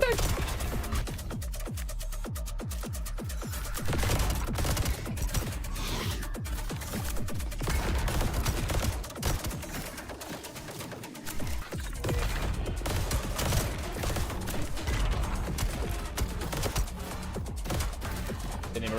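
Rapid gunfire in the roguelite shooter Void/Breaker, with bursts of sharp shots and impacts crackling through most of the stretch, pausing briefly midway, over game background noise.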